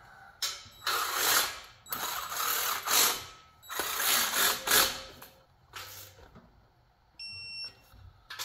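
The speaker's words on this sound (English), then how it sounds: "I'm gonna torque them to spec" A hand ratchet torques header bolts on a Mopar V8 in a 1964 Plymouth Fury engine swap, clicking in several bursts of fast strokes with short pauses between, followed near the end by a brief electronic beep.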